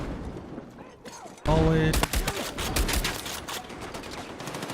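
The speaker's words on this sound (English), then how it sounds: "Grenade launchers." Grenade launcher fire in an online shooter video game, a loud burst of blasts and rapid gunfire-like bangs kicking in suddenly, with a voice talking over the start.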